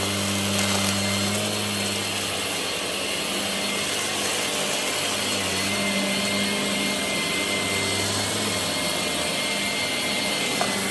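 A steady, loud whirring drone of a Shark PowerDetect cordless vacuum cleaner (IP3251UKT) motor runs continuously and evenly from start to finish with no pauses.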